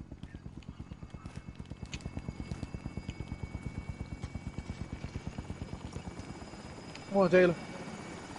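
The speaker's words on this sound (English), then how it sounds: "Where's the damn helicopter?" A Call of Duty helicopter chops steadily with a rapid, even rotor pulse throughout, moderately close, while players talk over it and a brief louder voice bursts out near the end.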